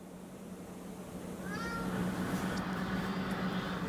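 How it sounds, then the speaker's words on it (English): A cat meows in a short rising-falling call partway through, heard over steady room noise with a low hum. "Did you hear the fucking cat?"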